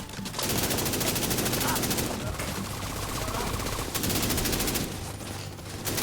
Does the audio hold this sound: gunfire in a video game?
yes